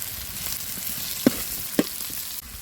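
Small onions frying in oil in a pan for a fish curry, a steady soft sizzle with two brief stir clinks, no talking.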